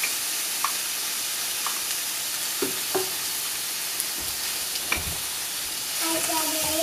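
A marinated black bream fillet fries in a pan with a loud, steady sizzle and hiss close by, punctuated by occasional light clinks and a brief voice near the end.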